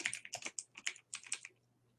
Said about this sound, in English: this is where you type in your answers